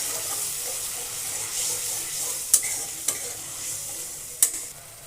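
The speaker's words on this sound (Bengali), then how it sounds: "এবার দিয়ে দেবো পোস্তর বাটি ধোয়া একটু জল দিয়ে এটাকে ভালো করে কষিয়ে নেব।" Poppy seed paste and pointed gourd masala frying in a pan with a splash of water, giving a continuous soft sizzle while a spoon scrapes and taps against the pan a few times.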